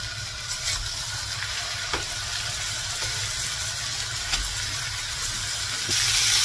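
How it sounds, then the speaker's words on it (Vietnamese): Beef fries in a pan for homemade hamburgers, giving a steady close sizzle and hiss with a few faint clinks of stirring, and no voices. "Nên mình chiên thịt bò."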